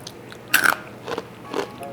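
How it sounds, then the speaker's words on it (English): Two or three sharp, dry crunches sound up close, like small roasted chickpeas cracking, with brief quiet between them. "You hear that crunch?"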